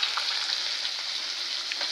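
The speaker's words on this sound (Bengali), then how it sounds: "তো মাছ এদিকে ভাজা হচ্ছে।" Small mixed river fish frying in hot oil in a pan, a close, even hiss and crackle that holds steady throughout, with no talking.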